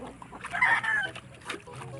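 Brahma chickens cluck and squawk nearby in a short burst of overlapping calls, with a busy barnyard murmur underneath.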